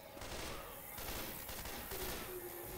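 Gunfire in the video game Left 4 Dead 2, set at a carnival, comes as rapid repeated bursts over a dense, rumbling game soundscape, fairly quiet overall.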